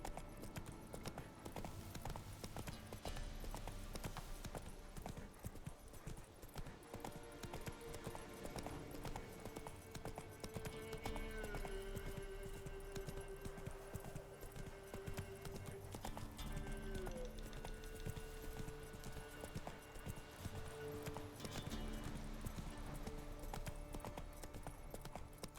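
A horse's hooves clip-clop in a steady, continuous rhythm in The Witcher 3: Wild Hunt, fairly quiet and mixed with soft in-game ambience.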